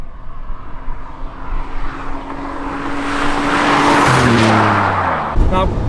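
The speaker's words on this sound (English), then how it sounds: "you can hear the 2J working, all the 6 cylinders" Toyota Supra with a 400 bhp 2JZ six-cylinder engine accelerates nearby, the drone rising steadily in pitch and loudness before a sharp gear change near the end, over continuous road and wind noise.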